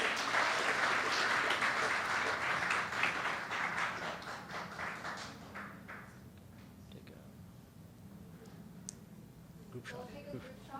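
An audience at an awards ceremony applauds grade 9 award winners, loud sustained clapping that fades after about five seconds into scattered claps and background murmur.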